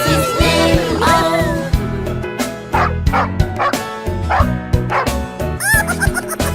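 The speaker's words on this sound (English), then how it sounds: "There was a farmer had a dog and Bingo was his name" Cartoon dog barks and yips woven through a children's song about a farmer's dog, loud and rhythmic over bright synth music with no talking.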